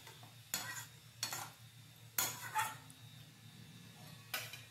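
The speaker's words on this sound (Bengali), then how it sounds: "এখন সমস্ত কিছু আবারও নাড়াচাড়া করে খুব ভালো করে এটাকে মিশিয়ে দেবো।" A spoon scrapes and knocks through pumpkin curry with jaggery in a pan, in a few distinct strokes close by over a soft steady sizzle, with no talking.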